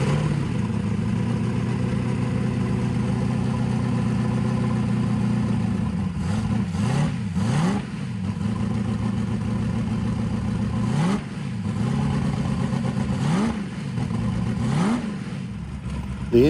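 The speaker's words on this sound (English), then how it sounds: "The engine fires right up, sits there and idles okay" A carbureted car engine starts and runs steadily at idle, with several brief revs rising and falling partway through, close by and fairly loud.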